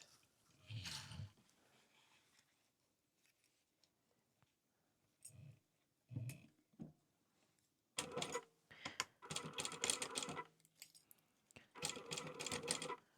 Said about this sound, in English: I am going to backstitch at the beginning and the end of sewing over the edges of the zippers.